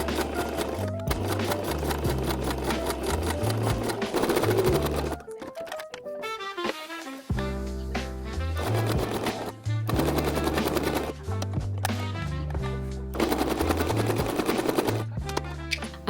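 A sewing machine straight-stitches a sleeve hem in rapid, loud mechanical bursts of fast needle rattling, pausing briefly midway before running again in several long runs.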